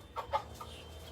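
A farmyard chicken on a backyard farm in the Philippine countryside gives two quick clucks close by, then a softer third, over a low steady background hum.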